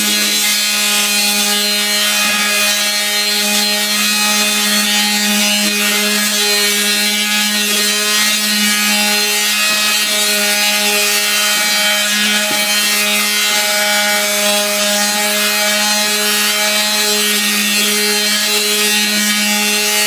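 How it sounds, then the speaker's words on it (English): Palm sander fitted with a 3000 grit pad sanding a car headlight lens, a loud, steady mechanical whine with a rough rubbing hiss, running close and unbroken throughout with no speech. "3000 grit sanding pad on the palm sander again."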